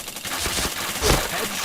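Rapid gunfire in the first-person shooter PointBlank, a dense burst of shots over game sounds, loud and continuous, with a voice briefly under it.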